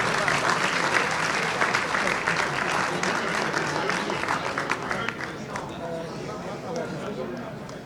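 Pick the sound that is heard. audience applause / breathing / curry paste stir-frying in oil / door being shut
audience applause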